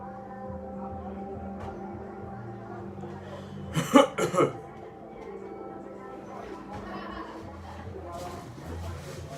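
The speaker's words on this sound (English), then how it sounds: "Coughing on everything." A few quick coughs burst out close by in a sibling prank at home, a short cluster in the middle of a quiet room with faint background sound and a voice nearby.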